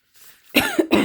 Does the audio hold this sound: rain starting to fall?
no